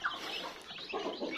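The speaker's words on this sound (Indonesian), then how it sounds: "langsung kembali ke ayam umbaran saya yang ini" Free-range chickens in a pen, a flock of about twenty, cluck and murmur in soft overlapping calls, quiet and nearby, without talk.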